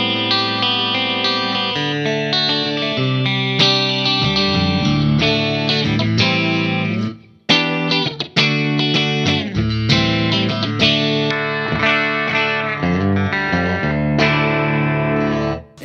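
An Artist Guitars AMS6 headless multiscale electric guitar on both pickups plays clean chords and picked notes with light chorus shimmer, loud and up close, with one brief pause midway.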